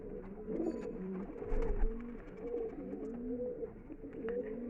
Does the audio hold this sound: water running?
no